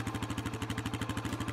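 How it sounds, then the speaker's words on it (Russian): A cartoonish motorcycle engine putters in a fast, even, pulsing rhythm, loud and close, running steadily without any voices. "Ух ты! Мотоцикл едет."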